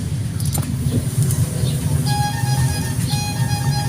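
From inside a motorized tricycle, a loud, steady low engine rumble mixes with surrounding traffic noise, and a few higher tonal whines and faint rattles rise briefly over it.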